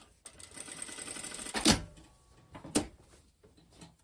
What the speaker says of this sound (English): we're sewing, basically sewing that seam to the pocket bag to secure it in place